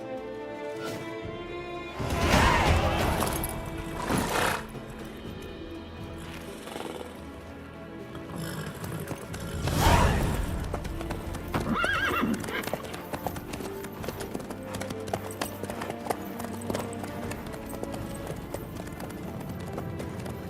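A horse in Witcher 3 trots with steady rhythmic clip-clop hooves throughout. Two loud whinnies break in early and midway, and muffled character dialogue runs underneath.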